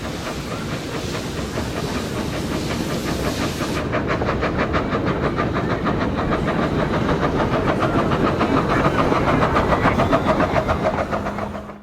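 A Czechoslovak-built 2-foot gauge 0-4-0 tank steam locomotive works close by, its steady chuffing beat and rattling wheels running loud and continuous, with no voices.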